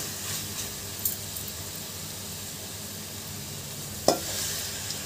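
Water goes into a pan of frying mutton for sanagapappu mutton: a steady sizzle with light stirring, then a sudden hissing surge partway through that settles into a louder simmering hiss.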